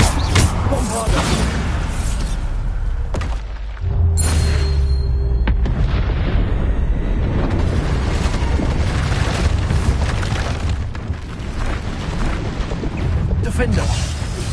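Bombarda spell explosions in a PS5 video game, heavy booming bursts inside a dense, loud, continuous wash of game noise that barely lets up for the whole stretch.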